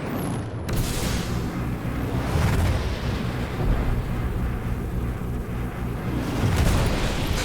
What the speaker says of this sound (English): Right, wait, missile. Missile. And fire the missile.